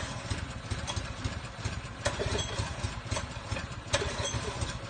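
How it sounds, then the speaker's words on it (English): A go-kart engine idles steadily at a track before a race, a continuous low rumble with a few brief revs and clicks, fairly close and with no talk. "Get ready to do some go-kart racing."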